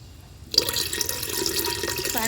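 After half a second of near quiet, a tap suddenly opens and water runs hard and close, splashing into a vessel as a steady rushing stream until the end.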